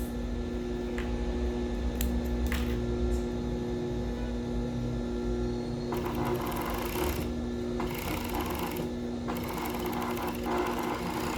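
Sewing machine stitching a bikini top strap, a steady close mechanical whir running throughout with a brighter, faster stretch midway, no talking over it.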